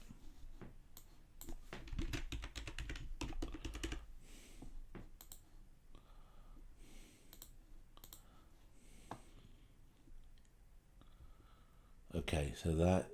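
Typing on a computer keyboard to enter a web link and a password, heard as quiet irregular key clicks close by with soft talk among them and a louder burst of noise at the end.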